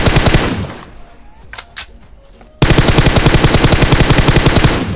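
Rapid automatic gunfire from the PUBG video game on the Miramar desert map, a loud burst that fades to quieter scattered shots and then resumes as a sustained, dense rattle of fire close by.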